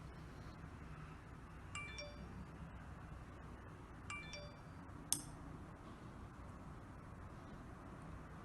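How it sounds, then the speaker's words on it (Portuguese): Three short, bright electronic chimes ring out from a garden watering system app, alerting to low water level, spaced a couple of seconds apart over a quiet background hiss. "apareceu uma notificação indicando baixo nível"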